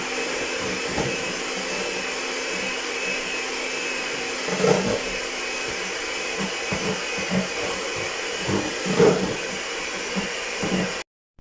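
An electric hand mixer beats banana bread cake batter in a bowl, a steady whirring drone running for the whole stretch with a few louder bumps as the beaters knock the bowl, then cutting off abruptly.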